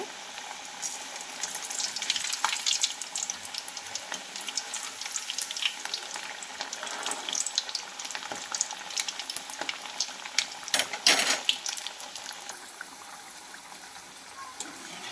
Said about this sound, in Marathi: ही वडे मीडियम गॅसवर फ्राय करून घ्यायचे आहेत